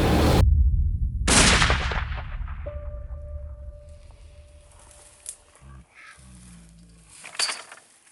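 A rifle shot rings out on an African safari hunt for roan and black impala, one sharp loud crack with a rolling echo, then a second report about a second later, followed by quiet bush ambience and faint rustling.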